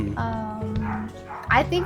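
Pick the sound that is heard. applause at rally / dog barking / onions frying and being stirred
dog barking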